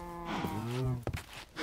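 Minecraft cows on a cow farm low multiple moos, a long drawn-out call followed by a shorter one, fairly close and clear with no talking.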